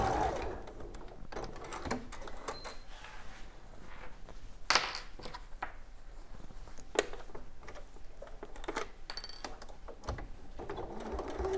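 A sewing machine stitching a bag, giving a faint, steady mechanical whirr and patter with occasional louder clicks, and no voices.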